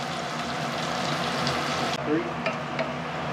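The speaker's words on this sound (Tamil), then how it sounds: "நல்ல கோல்டன் ஃப்ரை ஆகிடுச்சு." Marinated biryani ingredients fry to golden in a pan of oil, a continuous close sizzle and crackle with a few stirring scrapes, and a voice speaks briefly partway through.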